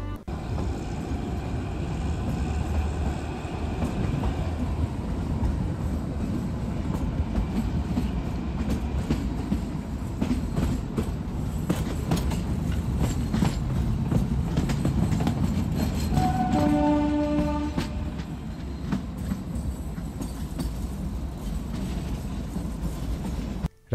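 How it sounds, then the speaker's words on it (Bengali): The Shivalik Deluxe Express narrow-gauge toy train on the Kalka–Shimla line rolling along, a steady loud rumble with rhythmic wheel clatter from inside the carriage, a brief tonal squeal or horn partway through. "আমাদের ট্রেন অর্থাৎ শিভালিক ডিলাক্স এক্সপ্রেস কালকা ছেড়ে রওনা দিল সিমলার উদ্দেশ্যে।"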